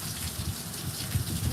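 Steady rain blows through a screen on a rainy day, a dense, continuous hiss with soft patters close by. The wash stays loud and even throughout.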